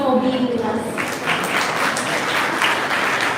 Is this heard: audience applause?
yes